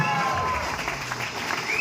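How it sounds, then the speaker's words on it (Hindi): An audience applauds to welcome a newly appointed zonal team coordinator onto the stage, a short burst of crowd clapping mixed with some voices and murmur. "जोरदार तालियों के साथ आमंत्रित करना चाहूंगा"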